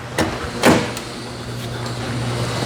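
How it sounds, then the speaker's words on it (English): A car door on a hot rod thumps shut with a single solid knock after a lighter click, then a low steady hum continues beneath, with no talking. "All right, Kev, hit the door for us, please."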